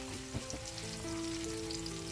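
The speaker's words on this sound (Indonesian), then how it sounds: "Lalu kita tumis sampai bawangnya layu dan harum." Onions and chili stir-fry with chicken in a hot pan, giving a close, continuous sizzle with a few soft stirring knocks and no talking.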